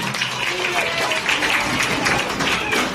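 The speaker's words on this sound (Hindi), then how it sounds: "तालियां बजती रहनी चाहिए जोरदार इनके लिए, अपने टीचर्स के लिए" Sustained crowd applause for teachers at a fitness dance academy event, a dense wash of clapping with a faint background voice.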